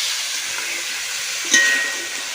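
Country chicken pieces fry in hot oil in a pan, giving a steady close hiss that swells briefly in the middle of the clip.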